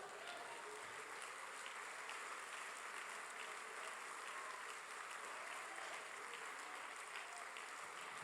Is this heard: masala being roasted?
no